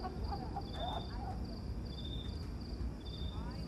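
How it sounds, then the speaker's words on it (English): Steady, repeating insect chirps, thin and high-pitched, pulse over a dense background hum, with faint voices murmuring in the distance. "Crickets."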